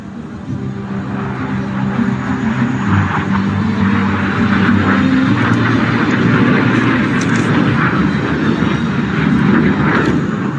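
HAL LCA Tejas jet fighter performing aerobatics at the Dubai Air Show, a loud sustained engine roar that swells slightly as the aircraft passes, heard continuously without talk.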